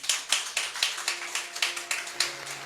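A small audience at a community health gathering claps in a slow, rhythmic pattern, about a dozen sharp, evenly spaced claps heard fairly close, with faint tones lingering beneath.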